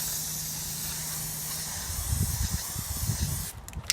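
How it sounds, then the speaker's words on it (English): Testors Dull Coat spray lacquer hisses from an aerosol can in a steady broadband spray, giving a close, even coat before fading out near the end, with a faint low hum underneath. "we're going to be spraying a Tester's Dull Coat spray lacquer"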